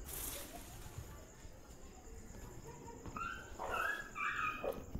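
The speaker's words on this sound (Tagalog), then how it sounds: "May aso kong naririnig." A dog barks and yips a few times at a distance over a steady chorus of crickets and insects on a quiet night near an abandoned house in Tagaytay, Philippines.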